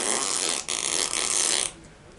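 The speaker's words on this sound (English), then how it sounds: "It was the worst fart of his life." Dog's fart sound effect: a single loud, raspy, hissing blast lasting under two seconds with a brief sputter midway, then trailing off.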